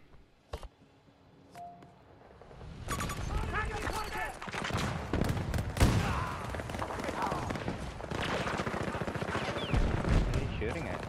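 Gunfire in Battlefield 2042: bursts of automatic fire and scattered shots start after a couple of seconds and continue densely with thumps, loud and close, with a voice talking underneath.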